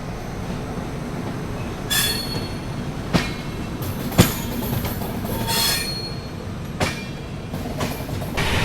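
The West Bengal Sampark Kranti Express runs nonstop between Sealdah and Anand Vihar, with a steady rumble of wheels on rail, high squeals and sharp clanks at irregular intervals, heard from inside the moving train.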